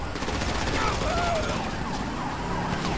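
A wailing police car siren in GTA 5 rises and falls over a dense wash of game noise and gunfire, moderately loud and blended into the chaotic street action.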